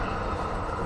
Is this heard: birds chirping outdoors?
no